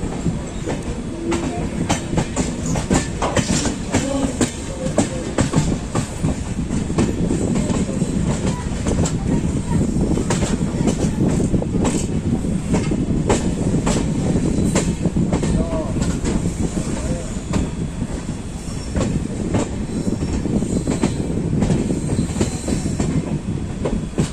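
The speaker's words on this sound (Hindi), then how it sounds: "इधर से ट्रेन ने मेन लाइन पकड़ना चालू कर दिया है।" Ajmer Janshatabdi Express running onto the main line on the Rewari–Delhi route, heard from on board as a loud, continuous rumble with rhythmic clickety-clack of wheels over rail joints throughout.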